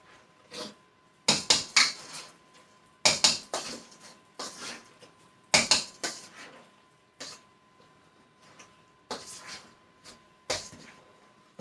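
Freezer-meal ingredients stirred with milk in a bowl, a utensil clanking and scraping against the dish in irregular bursts of sharp clicks and knocks, close by, with quieter pauses between.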